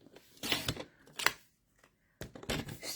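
Sharp crisp cuts and slides of a paper trimmer through cardstock, a few separated clicking swipes with a quiet gap in the middle, close and fairly soft.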